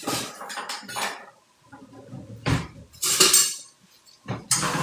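Okra being sautéed and tossed in a pan with a big spoon, giving a few rattling clanks and scrapes of metal on the pan, separated by brief quiet gaps.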